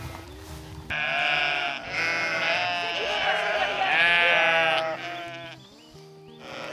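A flock of sheep bleats loudly and close on a farm, overlapping calls layered over one another, with brief human voices near the start and end.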